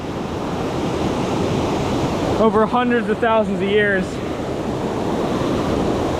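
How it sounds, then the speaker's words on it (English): A waterfall pours into a deep pool in a forest stream, making a loud, steady rushing roar throughout, while someone speaks briefly over it midway. "This one is almost too deep, like it's been carved out by this waterfall"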